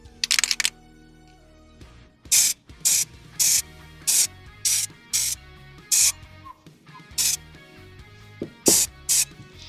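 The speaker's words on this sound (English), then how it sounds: "to spray these with this flat black" Flat black spray paint hisses onto a flexible resin 3D print in about a dozen short, sharp bursts at a steady rhythm, with faint clicks and handling noises between them.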